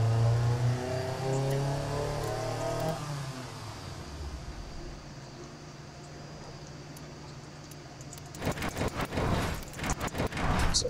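Car engine in the Automation car-building game, a droning tone that shifts pitch and settles, then rapid repeated revving bursts near the end, loud and close with no talking.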